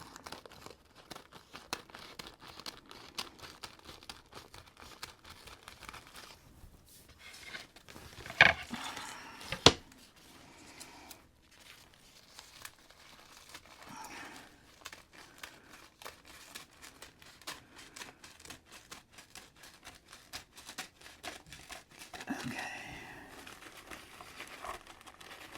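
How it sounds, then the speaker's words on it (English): Excess craft material being trimmed away during a Cricut project, with soft crinkling and snipping, a couple of sharp cuts standing out midway, and light rustling handling around them. "I'm going to cut the rest of it off"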